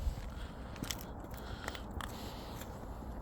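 A dog crunches dry kibble up close in quiet surroundings, with a few sharp bites and crackles scattered irregularly over a low background hiss and no voices.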